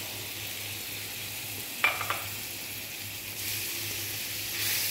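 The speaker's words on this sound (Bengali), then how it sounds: "টক দইটা দিয়ে ভালোভাবে নাড়াচাড়া করবো" Sour curd stirred into cooked masala for a prawn malai curry in a pan, with a steady soft sizzle and a few brief scrapes of the spoon, over a low hum.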